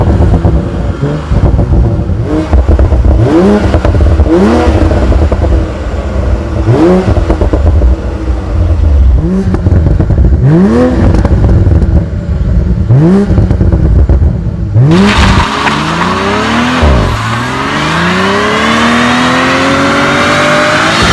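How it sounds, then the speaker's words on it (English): A BMW Z4 sports car's engine is revved repeatedly in rising bursts, each followed by exhaust pops and crackles, building to a longer roaring rev with a crackling overrun near the end; loud, close and without talk. "Let's see how much pops and crackles are coming from each of these cars' exhaust."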